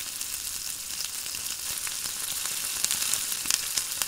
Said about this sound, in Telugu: అందులోకి కరివేపాకు వేసుకుందాం.